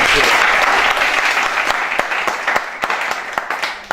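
Sustained, loud applause from a crowd at a football club gathering, dense clapping at first that gradually thins into scattered individual claps toward the end.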